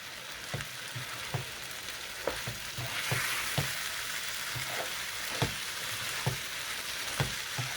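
Eggplant and boiled egg curry sizzles in a pan while a spoon stirs it, giving a steady frying hiss broken by regular scraping knocks of the spoon against the pan.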